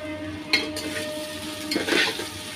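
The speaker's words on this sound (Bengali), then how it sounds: "দেখুন এভাবে ঢেকে ঢেকে আমি আরও 5 মিনিট কিছুক্ষণ পর পর নেড়ে নেড়ে দিছি" Noodle pasta is stirred in a pan that is covered between stirs, with a soft sizzle and a few scraping, clinking strokes of the utensil against the pan.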